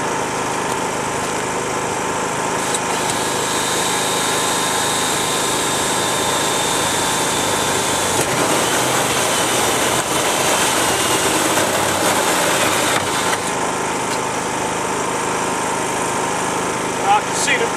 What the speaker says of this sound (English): What we're going to do is core a little hole through here